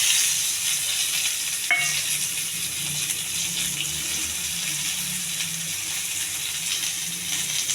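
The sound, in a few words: onions, cumin, mustard seeds, curry leaves frying in pan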